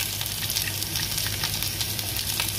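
Golden-browned garlic and fresh ginger frying in a hot pan for a tilapia and coconut dish, a dense, continuous sizzle that stays close and even throughout, with no talk over it.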